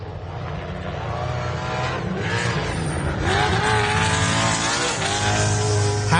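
A 410 cubic inch jet sprint boat engine revs hard during a river race at the Don River Dash, a loud, sustained roar that climbs in pitch and holds at high revs throughout.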